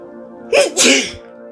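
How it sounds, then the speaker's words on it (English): A single loud, close sneeze: a sharp intake followed by a burst of breathy noise, over a faint steady hum. "I think I'm going to sneeze"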